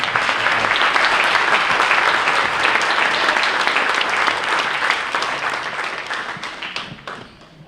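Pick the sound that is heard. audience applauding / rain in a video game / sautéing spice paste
audience applauding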